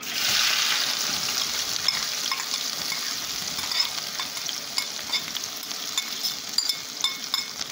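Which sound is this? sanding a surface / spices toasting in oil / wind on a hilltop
spices toasting in oil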